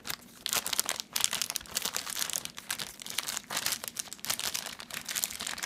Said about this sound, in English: I'm gonna just rip it open.